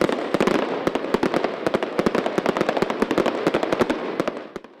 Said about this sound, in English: Yeah, we've got fireworks.